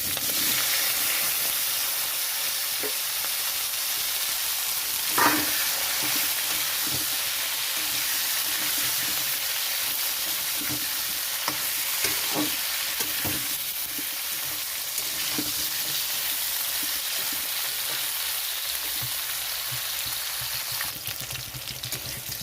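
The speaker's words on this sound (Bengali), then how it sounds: "এখানে দিয়ে দিচ্ছি আলু আর বেগুন" Potatoes and eggplant fry in a wok with nigella seeds and green chillies, making a continuous close sizzle broken by scattered scrapes and clinks of stirring.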